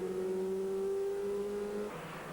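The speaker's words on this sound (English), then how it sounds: "You can hear the flat 6 behind him, building up to speed as they come out of Ireland." A flat-six race car engine at a 1997 British motorsport race builds up speed, a single steady rising tone that fades abruptly after about two seconds.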